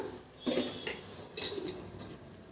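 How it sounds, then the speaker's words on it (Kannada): Metal lid set onto a cooking pot while making ridge gourd kurma, giving a few short clinking knocks of cutlery and pans, close and fairly clear, with no talk. "ಈಗ ಒಂದು ಲಿಡ್ನ ಕ್ಲೋಸ್ ಮಾಡೋಣ"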